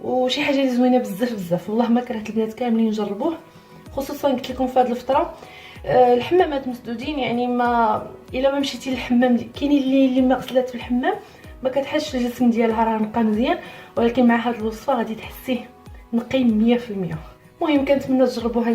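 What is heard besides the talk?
No everyday noises stand out.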